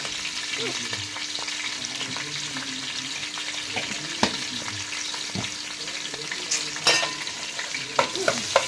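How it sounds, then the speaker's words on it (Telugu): Ginger paste frying in a pan for fish curry, a steady close sizzle with scattered sharp scrapes and clicks of stirring, louder bursts near the end. "ఈ పచ్చి వాసన పోయేంత వరకు ఫ్రై చేసుకోవాలి"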